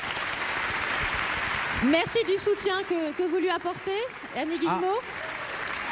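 An audience at a national talent awards event applauds, a continuous, even patter of clapping that runs under someone speaking over it.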